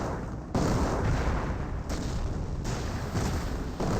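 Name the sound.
artillery barrage in Company of Heroes video game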